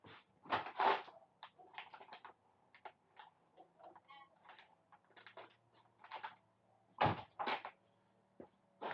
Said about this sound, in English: That's somebody's side door.